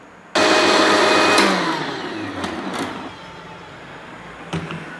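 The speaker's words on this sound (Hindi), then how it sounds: "अब इन सारी चीज़ों को मैं ब्लेंड करके तो आपको दिखाती हूँ।" A kitchen blender starts up abruptly and whirs loudly as it purees grapes and sugar for grape juice. Its motor pitch drops and the noise settles into a quieter churning hum with a few clicks and knocks.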